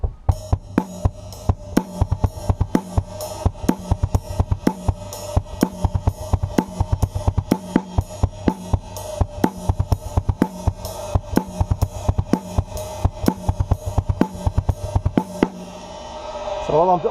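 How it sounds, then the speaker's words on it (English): A drum kit plays a steady, driving groove with quick triplet kicks on the bass drum, cymbals and snare cracking throughout, close and loud. "this is the part where you'll hear some triplets on the bass drum"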